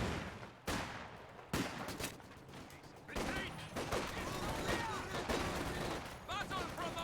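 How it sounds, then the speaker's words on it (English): Bursts of Vickers machine gun fire in a strategy video game, sharp rattling volleys and scattered shots layered over battle noise, loud and dense across the clip with a commentator's voice mixed underneath. "Vickers clips him at max range and sends him to the ground."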